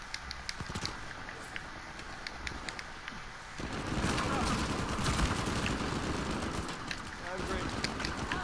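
Rapid bursts of gunfire ring out in Uncharted: The Lost Legacy, sharp crackling shots mixed with clattering footsteps and movement, growing denser and louder midway through, with a voice speaking at times.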